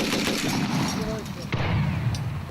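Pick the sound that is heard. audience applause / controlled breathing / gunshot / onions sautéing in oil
gunshot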